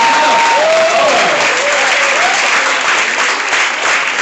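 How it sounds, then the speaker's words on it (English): Loud, sustained applause from a large crowd for speakers called to the front, a constant roar of clapping with a whistle or cheer rising briefly over it. "please come up to the front and receive these applause"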